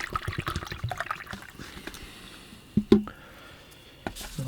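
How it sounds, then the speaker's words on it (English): Water poured into a painter's water bucket at an oil painting session, a soft trickle and splash that fades, then a couple of sharper knocks and splashes near the end, fairly quiet and close by. "I'll put a little bit of water in my water bucket."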